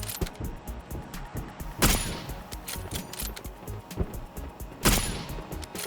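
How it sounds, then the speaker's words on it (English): Bolt-action sniper rifle fire in the PUBG video game: two sharp, loud shots a few seconds apart over a busy, constant background of in-game noise. "Took off the helmet, 3 good shots."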